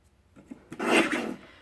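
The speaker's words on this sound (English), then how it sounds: "Now I'll trim this piece horizontally at 4 1/2 and 2 1/2." Cardstock sliced on a paper trimmer for a triple easel card, heard as a few light ticks followed by one short, raspy cutting stroke, close and alone.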